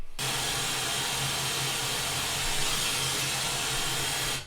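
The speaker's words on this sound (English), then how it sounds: "That's a white noise." Loud, even broadband hiss of white noise, constant from start to finish with no other sounds.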